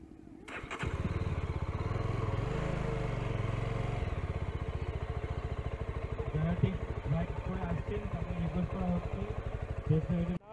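A Yezdi Scrambler motorcycle fires up and rides in road mode, its engine note steady and close with a rapid rhythmic thump, rising then settling into a throbbing idle-like pulse.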